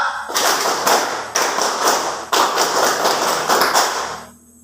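Many hands clap in unison in the tepuk tangan pramuka scout pattern, loud and close, with accented groups of claps repeating in a steady rhythm before cutting off.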